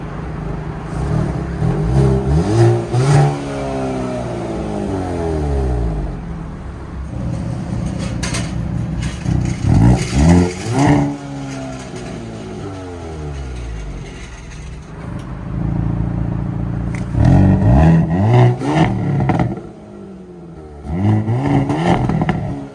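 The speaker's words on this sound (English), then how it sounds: "you can hear this exhaust with the different modes, with normal and N mode" The exhaust of a 2022 Hyundai Kona N revs several times in normal and N modes, each burst rising and falling in pitch, loud and near, with idling between.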